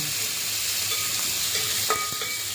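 Onions, thickly sliced small shallots, sizzle and fry in a pan for a masala dosa filling, with a steady close hiss and faint stirring clinks throughout.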